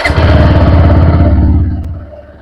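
A sport bike is ridden through a Punjab village. Its engine drones loud and close with a pulsing low throb, under rushing wind, then fades over the final second.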